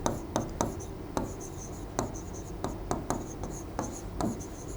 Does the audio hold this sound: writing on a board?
yes